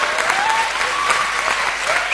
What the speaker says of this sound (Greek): Και ένα μεγάλο χειροκρότημα